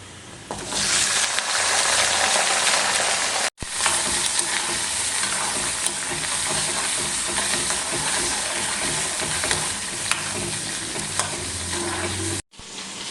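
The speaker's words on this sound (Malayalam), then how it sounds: "ഇനി നമുക്ക് എടുത്തു വച്ചിരിക്കുന്ന ചെറിയുള്ളി അതിലേക്ക് ചേർത്ത് കൊടുക്കണം" Small shallots frying in a pan with ginger and garlic for onion chammanthi, a loud continuous close sizzle with stirring noise throughout, broken by two brief dropouts, with no voices.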